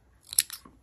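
A short, quiet snip of scissors cuts through crochet yarn, a single crisp crunch with a faint second click afterward, isolated and close.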